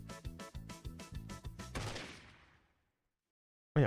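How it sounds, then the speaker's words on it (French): A rapid burst of gunfire, about eight sharp reports in quick succession followed by a louder blast that rumbles and decays, then silence and a final abrupt loud hit. "Il y a un coup de feu."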